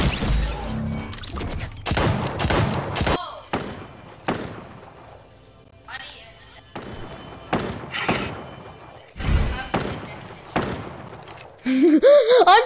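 Rapid bursts of video game gunfire crack through a busy match, with dense irregular volleys of sharp reports and thuds spread across the stretch and a louder, cluttered flurry at the end.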